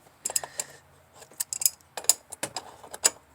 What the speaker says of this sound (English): this is where you take your crescent wrench